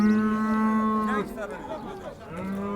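A cow at a livestock market in Çubuk, Ankara gives a long, loud, close moo that sustains for over a second, then trails into rougher lowing and background market noise.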